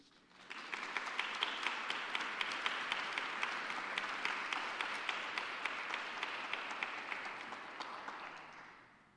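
An audience applauds steadily for author Terese Marie Mailhot at a Common Reading Series event, the clapping rising quickly and holding dense and even for about eight seconds before tapering slightly.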